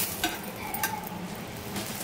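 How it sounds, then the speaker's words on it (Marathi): Pav bhaji vegetables sizzle on a hot griddle as they roast, a close, bright frying hiss with a few soft scrapes and taps of the spatula stirring them, and no voices. "आता याला अशी शेकून घेऊ पहिले। मस्त शेकून घ्यायचं।"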